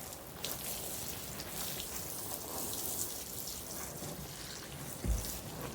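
A high-power water spray hisses steadily as it rinses a freshly repotted fig tree, with a constant close patter of droplets and a brief thump near the end.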